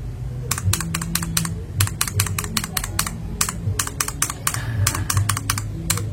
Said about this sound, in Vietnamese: Mình lấy con 3 chân này mình nhấn vô thử rồi